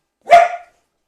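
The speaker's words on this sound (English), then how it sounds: "why are you barking?" A dog gives a single sharp bark, loud and close, cutting off quickly into silence.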